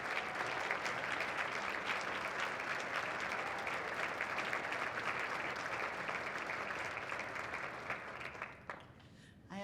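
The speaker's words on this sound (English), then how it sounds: "it's like a clapping exercise as we get to celebrate everyone" An audience at a community marathon breakfast applauds sponsor representatives, sustained dense clapping from a large crowd that stays level for several seconds, then tapers off near the end.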